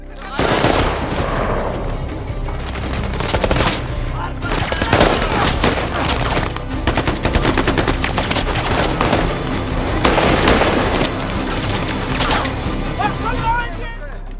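Sustained heavy gunfire rattles continuously, rapid automatic bursts layered with mechanical clatter, loud and close throughout.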